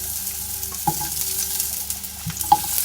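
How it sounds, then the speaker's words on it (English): Onions sautéing in a pan over medium heat give a steady close sizzle, with a few sharp clinks and scrapes of stirring and no talk. "Get your onions sauteing."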